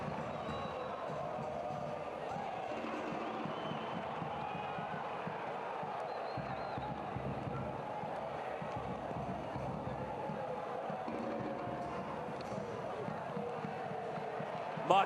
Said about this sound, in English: listen to the crowd trying to spur their home side on